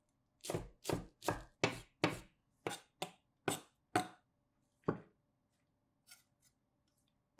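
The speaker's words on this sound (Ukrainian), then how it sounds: "Зелень, кінзу, петрушку м'яту дрібно порубайте." A knife chops fresh cilantro, parsley and mint on a board in a run of about ten crisp, evenly spaced strokes, loud and close, then slows to a couple of lighter taps before stopping.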